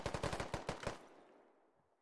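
Rapid automatic gunfire from the video game Squad: about eight sharp shots in a quick burst over the first second, then a fading echo tail into quiet, with no voices.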